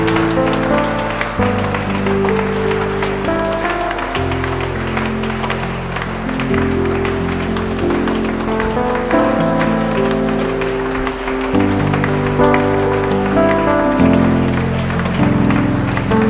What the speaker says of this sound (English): Clap your hands and begin to pray.